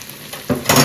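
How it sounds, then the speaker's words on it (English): Shallots tip into hot oil in a pan and start frying, a sizzle that swells from quiet to loud over about a second, with no one talking. "We're going to go ahead and add some shallots"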